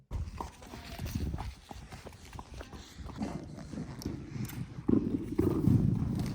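Horse hooves clip-clop at a walking pace on firm ground, close by and fairly steady, getting heavier toward the end.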